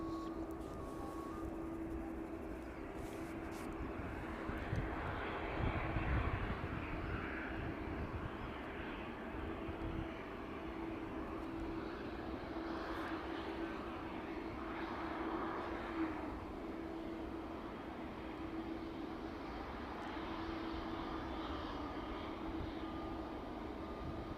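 A DHL Boeing 757 on final approach at East Midlands Airport in the evening, a steady distant jet roar that swells slightly around the middle and holds throughout without talk.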